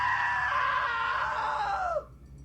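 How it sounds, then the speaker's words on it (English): A long, high, strained scream from a woman in the video game What Remains of Edith Finch, held loud for about two seconds before falling and breaking off abruptly into near silence. "Now that was a great scream."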